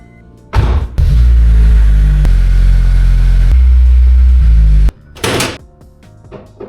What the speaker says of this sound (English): Now that I'm done fucking around, time to actually move this car.